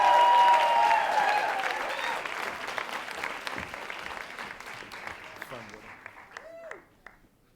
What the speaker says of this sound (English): How about a big round of applause for John J.